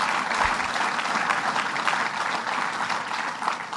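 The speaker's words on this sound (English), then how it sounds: "Let's give him a round of applause for all his great work." Steady audience applause at a sustainability conference in the Finger Lakes region, a dense wash of clapping that holds at an even level for the whole span with no voices above it.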